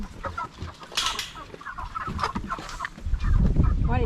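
Chickens cluck on a farm during a home meat-processing day, giving short, scattered clucks and squawks against rustling background noise that grows louder and heavier near the end.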